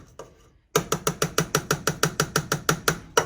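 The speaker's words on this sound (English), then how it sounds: "we're going to mash this up a little bit" A potato masher works through cooked potatoes, landing in a steady run of about fourteen regular squelching strokes after a short quiet lead-in. The strokes are close and fairly loud, with no talking.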